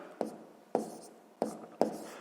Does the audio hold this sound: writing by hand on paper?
yes